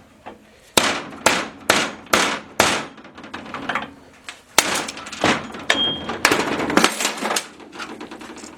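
A welder's chipping hammer and a soft mallet knock out the shift-cover shafts of an SM465 transmission, sharp metallic blows in two rhythmic bursts with short pauses between strikes.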